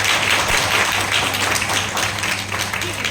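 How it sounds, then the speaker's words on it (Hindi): Audience clapping steadily at a bank PO training cultural fest, a dense broadband patter of many hands sustained throughout at fairly loud level, with a faint hum underneath. "एक बार ताली बजा दो।"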